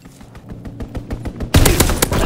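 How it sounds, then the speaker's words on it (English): Enemy aircraft strafing run in Call of Duty: WWII, a rapid string of distinct gunshot cracks building into a loud, dense burst of heavy gunfire and explosions at the end. "Enemy strafing run inbound."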